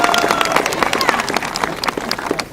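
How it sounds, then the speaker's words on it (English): An audience applauds for Miss Taylor at a stage dedication event, with dense clapping and crowd noise running throughout. "A round of applause for Miss Taylor up here"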